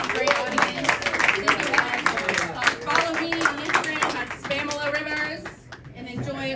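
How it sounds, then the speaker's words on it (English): At a comedy show, a live audience claps in a dense patter that is moderately loud and fades slightly toward the end. "Give yourselves a round of applause for being a great audience."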